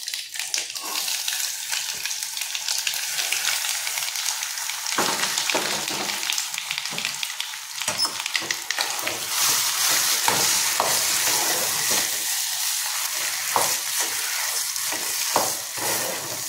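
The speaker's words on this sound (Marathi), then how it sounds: "आता आपल्याला व्यवस्थित परतून घ्यायची आहे भाजी" Vegetables for batata vada filling sizzle and fry in a hot pan while a spoon scrapes and stirs them in irregular strokes, close and steady, with no voices.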